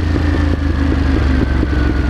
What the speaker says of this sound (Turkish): efsane patlıyor egzoz